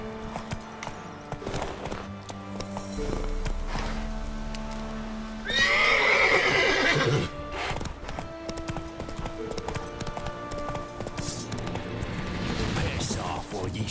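Roach the horse galloping in The Witcher 3, fast drumming hoofbeats throughout, broken by a loud shrill neigh in the middle, with game music underneath.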